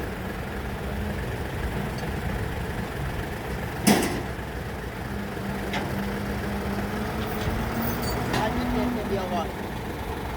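A tractor engine idles steadily with a constant low, close rumble that holds throughout, broken by a single brief click partway through.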